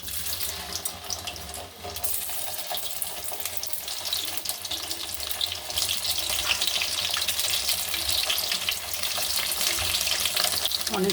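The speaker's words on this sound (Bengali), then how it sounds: "পনিরটাকে ভালো করে ভেজে নেব।" Paneer frying in mustard oil in a kadai, a dense, continuous hiss that swells louder through the second half, with no voices over it.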